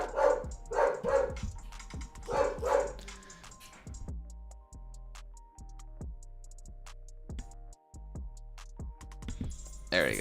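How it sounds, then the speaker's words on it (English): A dog barks in a quick burst of several loud, close barks at the start, then goes quiet while a ticking, clicking sound continues underneath. "now my dog's going crazy"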